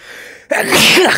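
A single sharp, forceful human sneeze bursts out loud and close, after a brief soft word.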